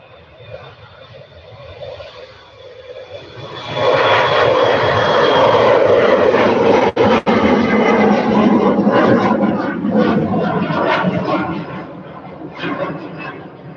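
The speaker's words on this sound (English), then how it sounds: "Off goes Hop. Ryanair into it." Ryanair airliner taking off at Manchester Airport, its engine roar swelling abruptly and holding loud and broad for several seconds before slowly easing as the jet climbs away.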